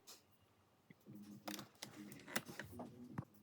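A sewing machine running a zigzag stitch of about 2.5 by 2, short quiet bursts of rapid mechanical needle clatter with brief pauses, close and soft, no talk.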